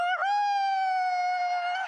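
A basketball player imitates an owl with her voice, a single sustained hooting call close to the microphone, clear and alone against silence.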